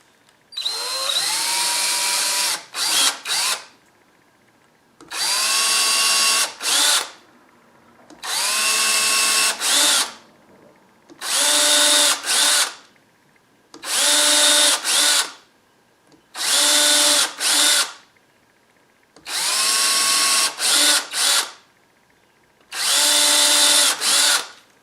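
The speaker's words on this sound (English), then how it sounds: "I'm ready to actually drill my pilot holes" A power drill bores pilot holes in a wooden dinner plate blank for turning, running in eight loud, close bursts of a few seconds each, with the motor whining up and down and short quiet gaps between.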